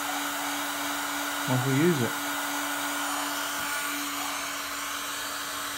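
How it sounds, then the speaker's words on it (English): A paint stripping heat gun blows with a constant airy whir and a steady hum, while a voice briefly speaks over it. "But I've got a paint stripping gun,"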